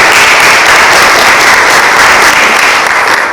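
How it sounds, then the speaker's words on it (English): Loud, sustained applause from a crowd at a city hall meeting, dense steady clapping filling the room for the whole stretch without a break. "let's give him a round of applause"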